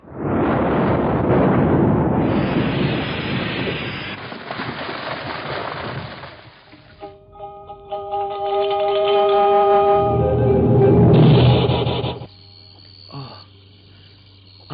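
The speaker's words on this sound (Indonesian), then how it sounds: "Aku seperti mendengar suara ledakan keras dari arah sana datangnya. Dan sepertinya suara ledakan pedang naga puspa" Loud explosion from the Naga Puspa sword in an Indonesian radio drama: a roaring blast that rumbles and fades over several seconds, followed by a ringing tonal swell and a second surging burst before it cuts off.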